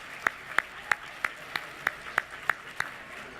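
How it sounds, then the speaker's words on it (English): At a founders celebration dinner, evenly spaced claps sound at a steady beat of about three per second, close and distinct over faint room noise, in applause for the evening's musician. "ask for a round of applause for our musician tonight, Witold Tolajecki."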